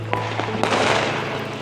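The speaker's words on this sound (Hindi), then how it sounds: "देखिए कितनी अच्छी आतिशबाजी छूट रही है।" Diwali fireworks bursting over a residential neighbourhood, seen from a rooftop: a few sharp pops followed by a louder crackling blast that rolls into a sustained sizzle, with a steady low hum underneath.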